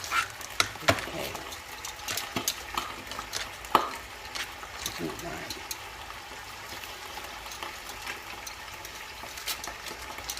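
Beef browns in a pot for Mexican caldo de res, a soft sizzle broken by scattered clinks and scraping stirs, with a voice talking briefly over it.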